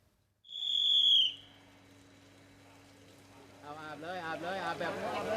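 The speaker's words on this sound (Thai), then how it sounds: "เจ้าหน้าที่กรมราชทัณฑ์ประจำเรือนจำพิเศษมีนบุรี เป่านกหวีดเป็นสัญญาณให้ผู้ควบคุมระบบการจ่ายน้" A prison officer at a Bangkok special prison blows a loud, shrill whistle once as a signal, a sustained blast lasting under a second, followed by background voices and ambient noise.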